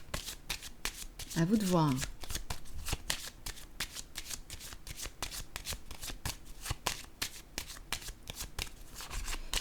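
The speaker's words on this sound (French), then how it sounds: "Je vais piger une autre carte pour clarifier." Tarot cards riffle and shuffle in a rapid, steady clatter close by through most of the stretch, with a person speaking briefly near the start.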